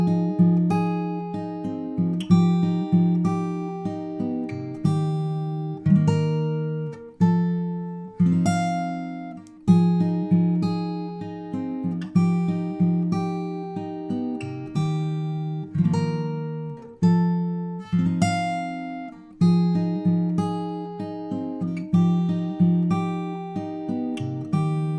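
Acoustic guitar plays the outro, with repeated picked chord patterns and ringing notes in a steady rhythm, close and clean, without any talk.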